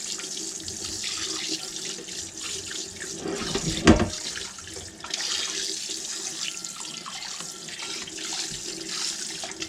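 Kitchen sink sprayer rinsing a cast iron pan with hot tap water, a steady close hiss of spray and running water with a brief louder splash near the middle.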